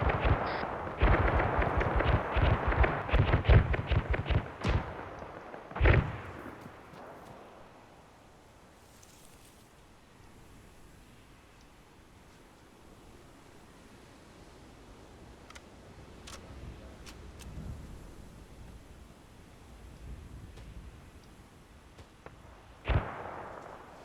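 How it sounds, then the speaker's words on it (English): Rocket fire and explosions from a military shooter video game mission, Operation Aurora Gelum, with a dense barrage of sharp blasts at the start, a big boom near six seconds, then a quieter rumbling lull and one more loud explosion at the end. "Not a fan of those rocket sounds."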